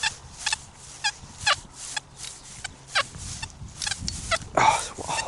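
Broken, fractured warble from a metal detector sounding over iron: choppy, stuttering tone bursts that break up irregularly over a low background hum.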